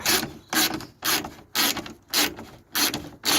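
A socket wrench loosening bolts, its ratchet clicking in seven regular bursts about half a second apart, close and loud with no voices.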